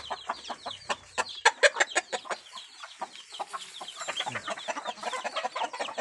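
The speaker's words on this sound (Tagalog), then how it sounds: "ito pala yung dalawang manok na binili ko" Chickens cluck and squawk close by in quick, uneven bursts, several birds overlapping in a steady farmyard chatter.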